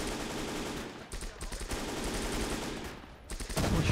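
Machine gun fire in the WWII strategy game Gates of Hell comes as rapid stuttering bursts of gunshots, fairly quiet and somewhat distant, broken by brief pauses.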